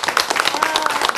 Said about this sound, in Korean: 예, 박수.